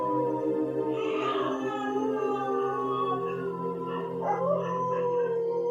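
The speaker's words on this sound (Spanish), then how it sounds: "A las 11:30 de la noche empezaron los perros a aullar en toda la calle." Several dogs howl together in long, drawn-out wails along a deserted street at 11:30 at night, their overlapping cries rising and falling continuously.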